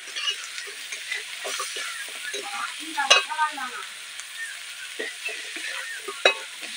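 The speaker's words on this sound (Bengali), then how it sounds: "কাঁঠাল দানা দিয়ে আমি ভালোভাবে নেড়ে নেব।" Jackfruit seeds with salt being stirred and fried in a pan, a steady bright sizzle with scraping spatula strokes and occasional louder clinks, close and alone without talk.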